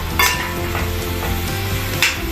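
Minced meat and tomatoes fry in a pan with no added oil or fat, seasoned with salt and pepper, giving a loud, steady close sizzle with a few stirring scrapes.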